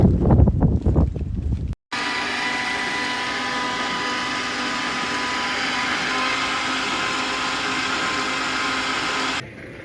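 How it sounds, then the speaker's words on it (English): A 2000 Dodge Dakota V8 being cranked over with its spark plugs removed gives a steady, even whirring drone that holds for about eight seconds after a brief burst of rumbling, then cuts off abruptly. "in that last clip, you'll see I'm just turning the motor over"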